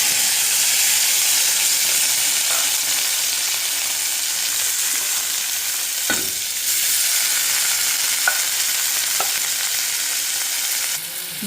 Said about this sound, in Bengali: কড়াইয়ে তেল দিয়ে দিয়েছি, তেলটা দেখো গরম হয়ে গেছে। কাঁচা লঙ্কা দিয়ে দিলাম। এখন এখন সব সবজিগুলো দিয়ে দেবো।